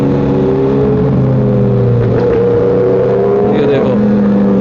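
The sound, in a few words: motorbike loud exhaust revving on night ride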